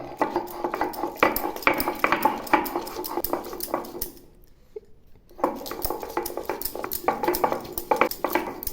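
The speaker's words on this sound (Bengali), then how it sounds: "এখন আমি এই 3টে কাঁচা লঙ্কাও বেটে নেব" Three green chillies being ground on a stone, a close rhythmic scraping and grinding with a brief pause midway before the strokes resume.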